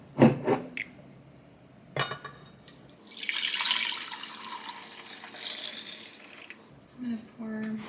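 Very hot water is poured into a glass jar in a home kitchen: a few clinks of glass and a splash, then a rising, hissing pour lasting a few seconds before it tapers off, with speech-like bits near the end.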